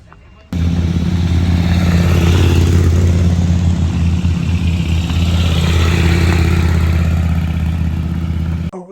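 Rally motorcycles race flat out along a closed road at the Rallye du Dourdou in Villecomtal, Aveyron, with a loud, steady engine roar rising and sustaining near the listener and voices mixed in.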